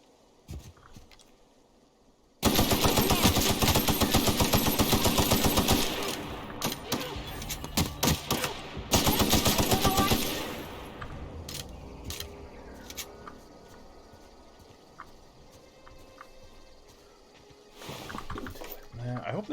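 Rapid automatic gunfire from a weapon in The Outer Worlds, two loud sustained bursts followed by scattered shots and quieter game noise, with a voice talking at times.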